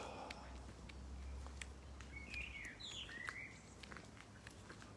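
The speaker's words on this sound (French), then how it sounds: "écouter les oiseaux" Faint bird chirps and short song phrases over a quiet outdoor background, with scattered light taps and patters.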